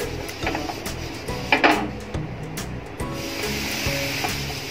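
Water splashed onto a very hot dosa tawa to season it, giving a burst of hissing and crackling sizzle near the start that settles into a rough, steady spitting and steaming.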